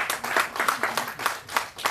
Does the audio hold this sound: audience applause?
yes